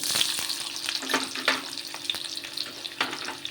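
Onion dropped into hot oil with mustard seeds, producing a close sizzle broken by sharp crackling pops and stirring scrapes at irregular intervals.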